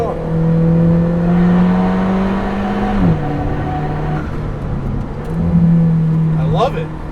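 A tuned Alfa Romeo 4C accelerates with a loud, close engine drone that climbs in pitch, drops sharply at a gear change and then builds again. Someone talks over the engine the whole time.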